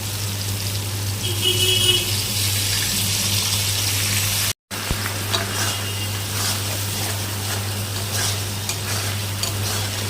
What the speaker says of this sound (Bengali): এর মধ্যে দিয়ে দিব জল ঝিঙাগুলো ভাজা হয়ে গেছে এখন আমি দিয়ে দিব সেই হলুদ আর লবণগুলো জলটা